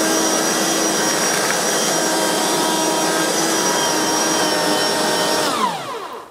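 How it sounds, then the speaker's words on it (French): Synthetic grass brushing machine from MGS (MonGazonSynthetique) running steadily and loudly up close while picking up soil, a continuous whirring drone that winds down at the end. "Et ça pourrait bien être chaud parce qu'il ne s'agit pas d'un aspirateur, il s'agit d'une brosseuse."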